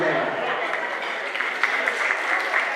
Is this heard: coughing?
no